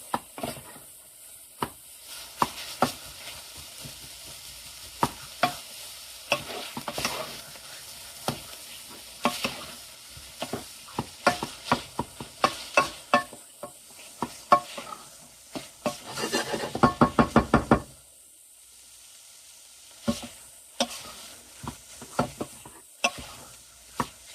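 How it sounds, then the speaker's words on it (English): Onions frying in a pot as the base for a simple homemade one-pot chili, giving a sizzle broken by many sharp scraping and stirring strokes, close and fairly loud, with a brief quieter pause near the end. "after the onions get good and fried up"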